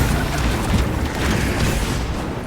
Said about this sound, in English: Throwing crack grenades.